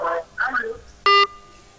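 Telephone call coming in on a radio show: a single short electronic ring tone, sharp and loud, follows brief talk, then fades into a thin lingering tone.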